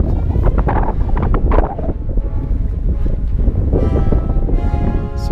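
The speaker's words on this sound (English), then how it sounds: "The wind came up." Strong wind gusting outdoors on the Paria Plateau, a loud, continuous roar buffeting the microphone throughout.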